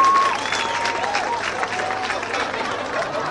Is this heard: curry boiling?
no